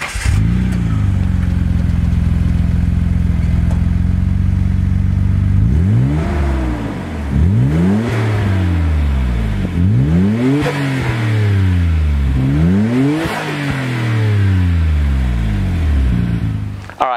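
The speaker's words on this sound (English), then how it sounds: "let's go ahead and fire up Godzilla and see what it sounds like" A Nissan Skyline GT-R R34 starts and settles into a steady idle, then gets revved repeatedly in rising and falling sweeps, loud and close, with a few seconds of idle between revs.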